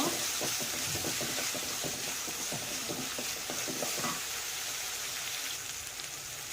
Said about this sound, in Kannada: ಟೊಮೆಟೊನೂ ಹಾಕಿ ಚೆನ್ನಾಗಿ ಫ್ರೈ ಮಾಡ್ಕೋಬೇಕು.